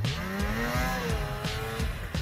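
A motorcycle engine runs at full throttle while riding up a slope, revving loudly and close by with a rising, wavering whine. Repeated knocks or thumps punctuate the sound.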